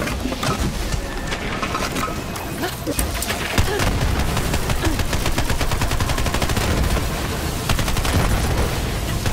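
Rapid automatic gunfire rattles through a Borderlands 3 firefight, dense bursts of shots rolling continuously, loud and close, with clustered volleys and game effects layered underneath.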